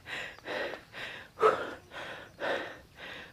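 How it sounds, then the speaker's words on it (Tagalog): Heavy panting from a cyclist after a steep uphill climb: six deep, rhythmic breaths, close and loud, with no talking. "Grabe hingal ko"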